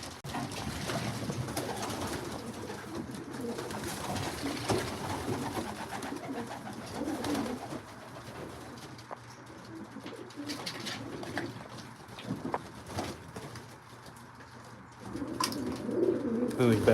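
Racing pigeons coo steadily inside a loft, soft overlapping calls continuing throughout at close range with a low, busy texture of bird murmurs.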